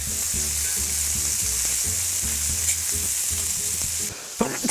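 Sandwich toppings sizzling steadily in a hot frying pan beside beer-cooked steak, a constant loud hiss with soft stirring taps underneath, ending in a brief clatter.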